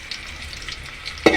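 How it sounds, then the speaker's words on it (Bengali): Onions frying in oil in a pan, a steady soft sizzle close by with a brief louder clatter of stirring near the end, no voices. "ভেজে দিব তেলের মধ্যে"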